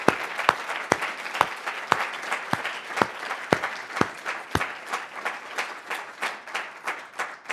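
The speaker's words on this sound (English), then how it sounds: "How about a round of applause for these people who've just come out?" A modest group claps in a small event room, individual hand claps sharp and distinct, irregular at first then settling into a quicker, softer patter that carries on throughout.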